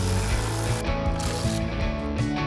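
A hand ratchet removes pre-existing bolts at the mounting points on a 2022 vehicle while Lumastep M1 light-up running boards are fitted, giving loud, close, rapid clicking pawl bursts in quick repeated strokes, with no talking.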